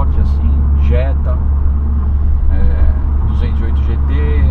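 Peugeot 308 GTi being pushed hard under acceleration, its turbo flutter noted, heard as a loud, steady engine drone that runs the whole time beneath people talking inside the car.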